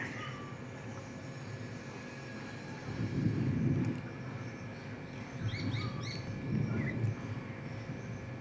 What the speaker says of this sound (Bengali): তোমরা শুনতে পাচ্ছ পাখির ডাক, চারিদিকে পাখির ডাক।